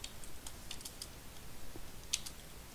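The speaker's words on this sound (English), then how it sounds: "and then I type message." Light, quiet keystrokes tap on a computer keyboard in an irregular string, ending in one sharper key press, with no voice.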